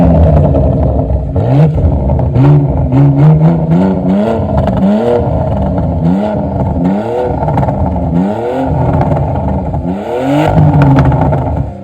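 A Porsche fitted with a very loud aftermarket exhaust revs hard and repeatedly, each surge climbing and dropping in a rhythmic series of loud, close blasts with no talking over it.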